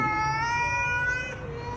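Cat meowing in a long, drawn-out cry near a shop, a single sustained yowl that fades at the end, loud and close.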